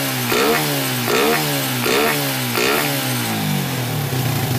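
A Suzuki Raider 150 motorcycle engine, which had been sputtering and knocking, revs up four times in a rhythmic rise-and-fall, then settles into a lower idle, loud and close.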